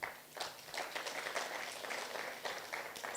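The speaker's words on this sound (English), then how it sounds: "A big round of applause." An audience at a business idea event gives a round of applause: scattered, moderate clapping from a room of people, fairly even throughout and a little distant.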